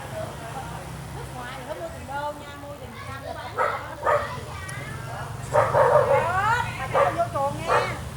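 A dog barks and yips in several bursts, fairly close, at a street food cooking spot in Vietnam, with people talking in the background throughout.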